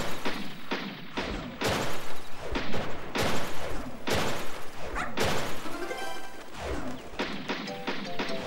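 Shots in a Nintendo Wii light-gun shooting game aimed at clay targets: a rapid series of loud, sharp game gunshot bangs and crashes, about a dozen in eight seconds, close and dominant.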